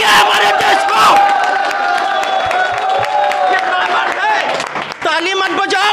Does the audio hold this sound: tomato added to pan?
no